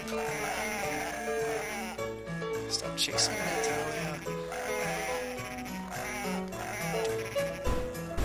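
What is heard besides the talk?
sheep bleating in video game Cool Herders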